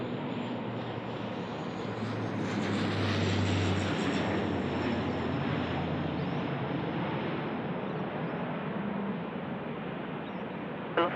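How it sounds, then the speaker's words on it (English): A Q400 turboprop airliner on short final at windy Sydney Airport, a steady broad roar of engines and propellers with a faint whining tone that swells slightly and holds, heard from a distance outdoors with no talking. "we've got a Q400. It's here now on short finals."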